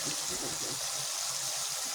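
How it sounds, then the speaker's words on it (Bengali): Water is poured into a rohu fish curry simmering in masala, giving a close, continuous gushing trickle with bubbling underneath over a brief moment. "পরিষ্কার মতো পানি দিয়ে দেবো"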